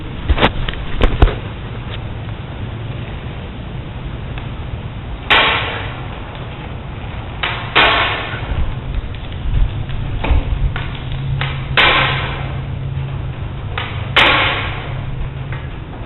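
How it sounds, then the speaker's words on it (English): A hammer striking a valve seal installer tool during motorcycle valve seal replacement, giving several sharp metallic knocks spaced a couple of seconds apart, close and fairly loud, with quieter handling clatter between strikes. "Then all you do is hit with a hammer."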